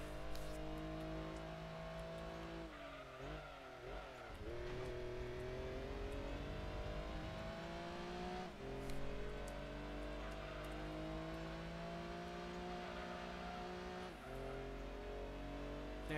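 Daihatsu race cars in Gran Turismo 2 drone with a steady engine note, revving through gear changes and a few brief dips, loud and continuous with no voices.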